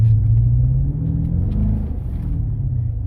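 A 2018 Dodge Charger R/T with a 5.7L Hemi engine accelerates, its deep, close rumble rising in pitch after a short pause.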